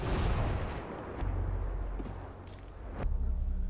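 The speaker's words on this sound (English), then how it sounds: "they're throwing another fucking grenade. Flashbang, I think." An enemy flashbang grenade goes off in the tactical shooter Ghost Recon Breakpoint, giving a loud concussive burst followed by a high ringing tone that fades, then another sharp blast near the end, with no talk.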